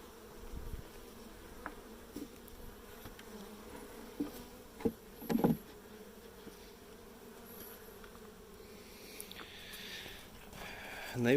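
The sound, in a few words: honeybees buzzing airborne around an opened hive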